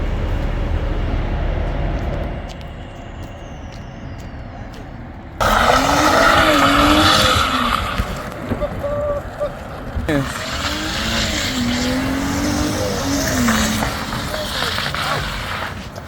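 A BMW 340i converted from xDrive for drifting spins one rear wheel through its open differential, producing loud, wavering tire squeal over a revving engine in repeated bursts, with people talking nearby.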